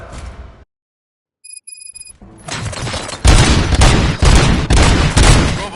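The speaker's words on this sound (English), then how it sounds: "Gunshots? What's going on?" Gunfire in the Robocop video game: a sudden drop to silence and a short electronic tone, then a dense, loud barrage of shots and booms that builds and continues steadily to the end.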